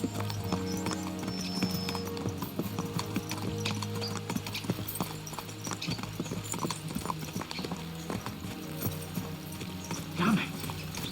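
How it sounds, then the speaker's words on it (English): Horses trot in the medieval game Kingdom Come: Deliverance II, a steady rhythm of hoof clip-clops with an occasional whinny and music underneath. "Let's really spur these horses on, eh?"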